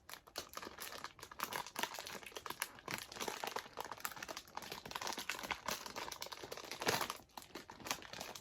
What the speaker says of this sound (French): je suis vraiment une galérienne pour ouvrir un paquet